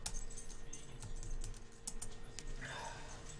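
Typing on a computer keyboard, a quick irregular run of light clicky keystrokes close by over a faint steady hum, with no one speaking.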